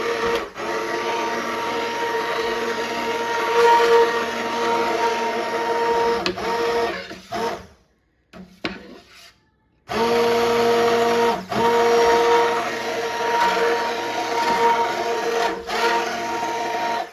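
Immersion blender running in a pot of homemade pasta sauce, a loud steady motor whine that cuts out briefly midway, then resumes, with no talking.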